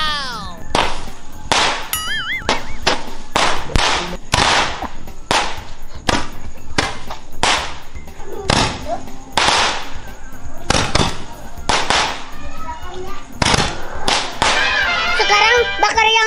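Firecrackers set off outdoors, a rapid string of loud, sharp cracks and bangs, some with whistling bursts, popping in irregular clusters close by.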